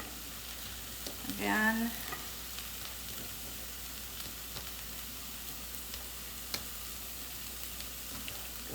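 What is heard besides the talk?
zucchini sizzling in a pan for a veggie frittata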